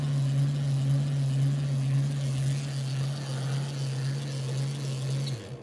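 An electric motor spinning a magnetic rotor in a rotating magnetic field test, a steady loud low hum with a whirring drone that holds for several seconds before cutting off abruptly at the end.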